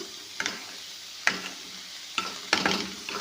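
Green spring onions are stir-fried in a pan for a carrot palya, with soft frying underneath and four sharp scraping strokes of a spatula spaced unevenly across the stretch.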